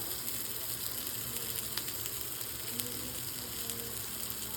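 Eggplant masala sizzling and frying on a tawa over a medium flame, a steady close crackle with faint occasional clicks, no talking.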